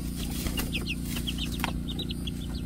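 Turken naked neck chicks cheep and cluck in a series of short, bright calls over a steady low hum, close by and without talk.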